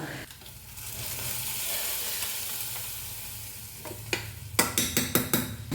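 Chopped onion and mustard seeds sizzle in hot oil as a curry tempering, a continuous hiss near the pan, ending in a quick run of sharp pops and crackles as the seeds burst.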